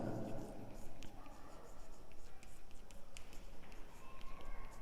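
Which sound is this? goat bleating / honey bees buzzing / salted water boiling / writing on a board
writing on a board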